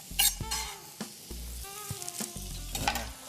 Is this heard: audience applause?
no